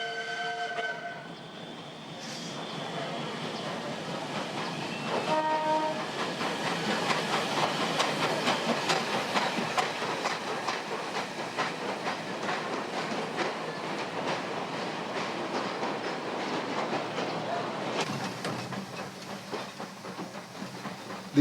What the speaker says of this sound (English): our special took us through suburban stations where steam is a rare sight nowadays.